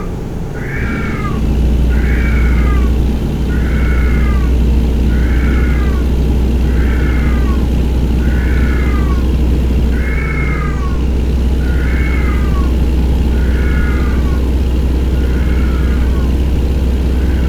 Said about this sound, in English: If you hear crying, if you're gonna hear crying in this video, it's because my cat's in heat.